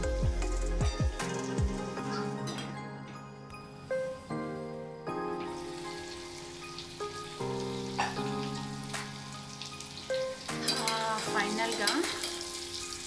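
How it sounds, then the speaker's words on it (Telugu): Brain curry frying in a pan crackles and sizzles continuously, with bright tonal music playing over the cooking noise throughout. "బ్రెయిన్ ఫ్రై అయిపోయిందండి"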